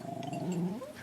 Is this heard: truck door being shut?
no